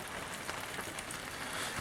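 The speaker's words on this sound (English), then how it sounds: "It's rainy out." Steady rain falls outside a backyard shed, a dense even hiss with faint patter of drops and no talking, constant and moderately close throughout.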